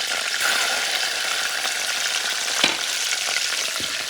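Garlic sizzling in a hot pan with squeezed lemon juice, a loud, steady frying hiss with occasional stirring scrapes, close up and continuous, no talk.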